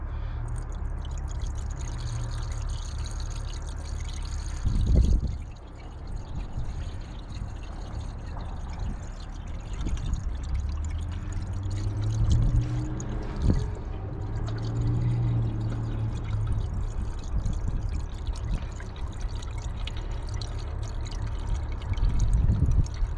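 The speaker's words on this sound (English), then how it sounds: "I need to put water now." Water is poured steadily into the cooling system of a 2009 Ford Focus, a continuous close gurgling stream with shifting pitch as it fills, briefly interrupted around the middle, without talking.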